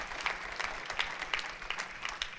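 A church congregation claps for the King of Glory during a Spanish-language sermon, a moderately loud, steady wash of many hands with a few sharper nearby claps standing out.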